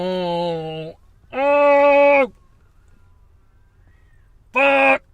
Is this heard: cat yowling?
yes